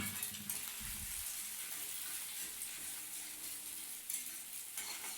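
Chopped onion and a cracked egg sizzle steadily in hot oil in a pan, scrambling together for a dal dish, with a few soft stirring knocks near the start and a continuous close, even frying hiss throughout.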